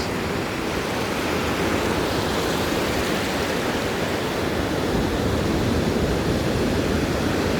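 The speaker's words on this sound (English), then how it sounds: "You see, the waves never stop." Sea waves wash continuously along the Turkish coast, a steady, dense surf roar with no breaks and no voices.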